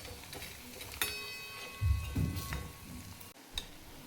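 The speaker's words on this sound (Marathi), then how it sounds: "असे तळून घ्यायचे सगळे, दोन्ही साईडनी पण व्यवस्थित असे तळून घ्यायचे।" Poha vadas deep-fry in oil, turned to cook on both sides over a flame that isn't low; a soft, quiet bubbling sizzle runs underneath, with scattered ticks and a few louder bumps and clatters.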